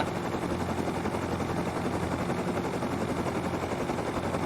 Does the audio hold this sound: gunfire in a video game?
yes